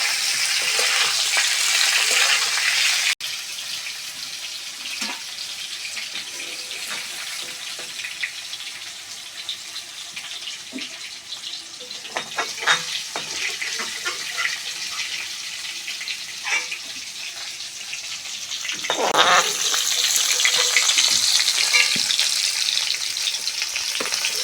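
Cauliflower florets fry in hot oil in a home kitchen, a bright steady sizzle that drops away after the first few seconds and then returns, with scattered clinks and stirring scrapes in between.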